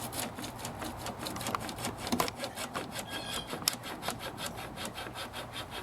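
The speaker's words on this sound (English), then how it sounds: "you've just now seen the cable cut all the way through the pipe" A cable saws through a plastic pipe in a steady, rapid back-and-forth rasping rhythm, close and fairly quiet, with no talking.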